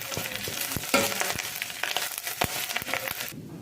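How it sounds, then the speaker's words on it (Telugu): Moringa leaves frying in a pan with onions and dried chillies, a moderate crackling sizzle broken by sharp scraping and stirring clicks at irregular intervals, with no voices. "మనం ఒలిచి పెట్టుకున్న మునగాకు వేసుకొని కొద్దిగా ఫ్రై చేసుకోవాలి."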